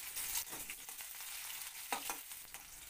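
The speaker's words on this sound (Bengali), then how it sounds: "পেঁয়াজটাকে হালকা লাল করে আমি একটু ভেজে নেব।" Chopped onion frying in a pan, a soft, steady sizzle with occasional stirring clicks and crackles close by, quiet overall and without any talk.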